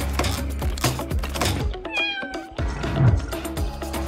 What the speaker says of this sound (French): Un chaton est coincé dans... pas tout à fait dans un arbre.